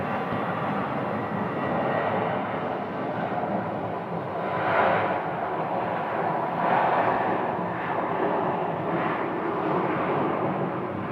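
Amazon cargo aircraft bound for Fort Worth, heard at Phoenix Sky Harbor airport as a steady, loud engine roar that swells and fades slightly, with no voices over it.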